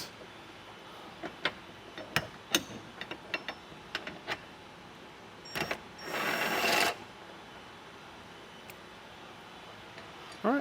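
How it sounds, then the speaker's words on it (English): Tools click and clack in scattered sharp taps while bolts are removed from the hinges of a spare tire carrier on a Jeep, with a brief burst of a power tool whirring midway. "Now we're going to remove our bolts right here from our hinges."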